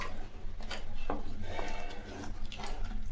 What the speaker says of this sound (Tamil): இப்போது நம்ம அந்த மிக்ஸி ஜார் கழுவி கொஞ்சம் தண்ணி ஊற்றிக்கலாம்.